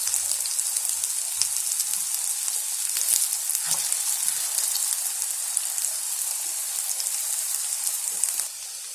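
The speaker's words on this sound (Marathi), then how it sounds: "आणि आपल्याला थोडासा कलर येईपर्यंत तळायचे आहेत." Fasting potato pattice frying in hot oil, a steady bright sizzle with soft crackles and a few faint clinks, continuing alone until it drops off near the end.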